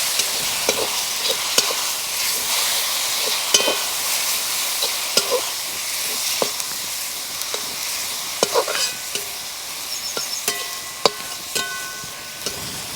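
A spiced turmeric and yogurt masala cooks in a pan for bottle gourd dhokla in a village kitchen, hissing steadily while a spoon scrapes and clacks against the pan in irregular strokes, close by with no talk.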